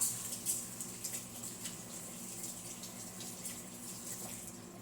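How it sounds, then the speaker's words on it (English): Water from a kitchen tap pours over a spoon being rinsed, a fairly quiet, steady close rush with a few small splashes and no talking. "I'm going to rinse off the spoon while you look at the pot."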